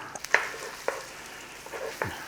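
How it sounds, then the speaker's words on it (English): Onions frying in a pan with seasoning, a soft steady sizzle broken by a few sharp clicks and scrapes of stirring. "we're going to start to cook up our onions"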